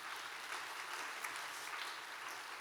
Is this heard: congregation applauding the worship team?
yes